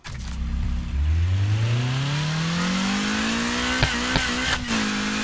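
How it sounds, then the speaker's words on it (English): A new car's engine revs up in the Need for Speed Heat racing game, climbing steadily in pitch after a low idle, with a few sharp gear shifts and close, loud tone throughout. "I already like the engine sound."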